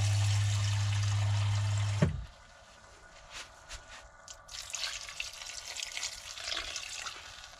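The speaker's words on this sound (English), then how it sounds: "add some water till it covers the vegetables" Water poured from a tap into a pot of cut cauliflower and broccoli for soup in a narrowboat kitchen, a loud steady rush for about two seconds that cuts off, followed by quieter splashes and trickling.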